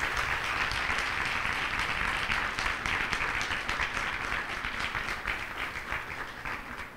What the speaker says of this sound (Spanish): les pediría un aplauso para los chicos de Bikini Wax